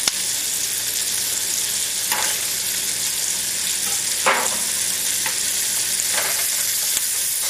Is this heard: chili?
yes